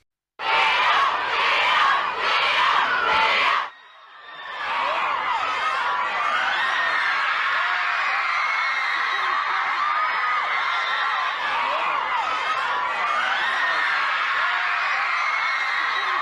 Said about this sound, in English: that is a bunch of fans screaming for Leonardo DiCaprio